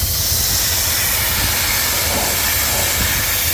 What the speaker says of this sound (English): I'm going to steam off the spray suppression